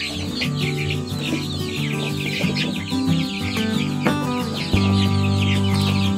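Native village chickens cluck and call on an organic permaculture farm, with busy overlapping clucks and chirps over a steady tonal background that shifts near the end.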